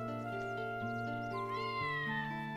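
Cat meowing in the video game Dark Cloud, several short meows over steady sustained game music, fairly clear and moderately loud.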